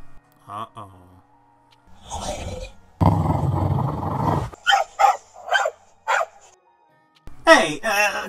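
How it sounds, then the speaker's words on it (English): A dog in a horror video game barks and growls aggressively at someone, with loud rough bursts and a sustained snarl, between spoken lines from characters. "call off your mutt, Brooke. It's coming for me with murder in its eyes."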